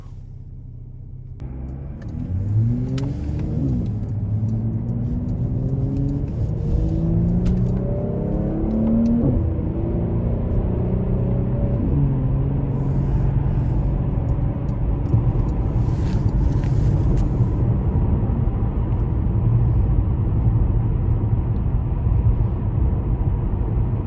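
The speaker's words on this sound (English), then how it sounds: "we're gonna go ahead and take this Porsche Panamera out on the road for a quick test drive" A 2018 Porsche Panamera with a dual-clutch gearbox pulls away on the road, its engine revving through several rising gear changes before settling into a steady cabin drone of engine and road noise, loud and continuous.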